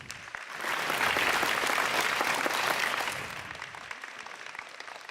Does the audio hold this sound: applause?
yes